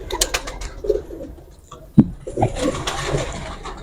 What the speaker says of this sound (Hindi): ये बांके कबूतर है दोस्तों।